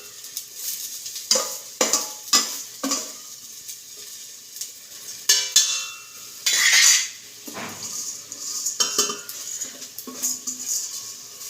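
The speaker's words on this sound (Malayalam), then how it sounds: "ഇതിലേക്ക് അരി ചേർക്കുന്നതാണ്." Rice poured into a metal pot for prawn biryani with carrots, followed by a metal spoon scraping and clinking against the pot in several sharp bursts, close and clear, with quieter stirring between.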